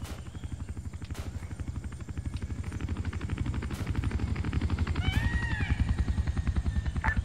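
An enemy infantry transport helicopter in the Vietnam War game The Vietnam Campaign, its rotor beating in a fast steady chop that swells gradually louder as it draws nearer, with a few brief high whines and sharp distant cracks mixed in.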